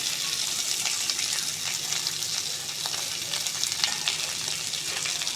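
Filling for crispy pumpkin-leaf rolls sizzles steadily in a pan while being stirred, a continuous close frying hiss with light scraping throughout.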